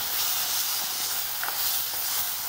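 An onion, garlic and tomato puree sizzles in a hot pan while being stirred for Mexican red rice, a steady, loud, hissing fry that runs the whole time without pause.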